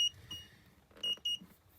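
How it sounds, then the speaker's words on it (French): A Dometic refrigerator alarm beeps because its motor is not running, giving a faint tone followed by two short, clear beeps close by, with quiet room noise in between. "on a une alarme parce que le moteur ne tourne pas."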